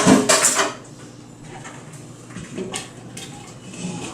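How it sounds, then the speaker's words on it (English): Cooled, drained pasta tipped from a pot into a very large bowl, with a loud clatter of cookware at the start that settles into softer scraping and handling noises. "I'm going to go ahead and get the pasta that I've kind of cooled and drained into the bowl"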